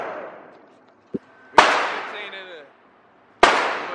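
Handgun shots at an indoor gun range: two sharp close cracks about two seconds apart, each followed by a long decaying reverberant tail, with a brief click and faint voices in between.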